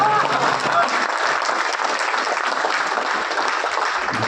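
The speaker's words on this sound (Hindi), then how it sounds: "मुझे आपसे इतनी तालियों की कोई उम्मीद नहीं थी" An audience at a humorous Hindi poetry gathering in a hotel in Ayodhya breaks into loud, dense applause, a sustained close roar of many hands clapping with no talk over it.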